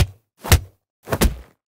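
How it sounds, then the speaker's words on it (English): Two separate punch or kick contact hits for an anime fight scene in Fire Force, each a short, punchy thump with a sharp attack, spaced about a beat apart, close and loud with no voices. "You have your contact sounds for punches and kicks,"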